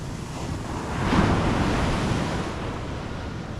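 Waves wash steadily onto the shore in a continuous broad roar, swelling slightly near the start, with wind rumbling against the microphone.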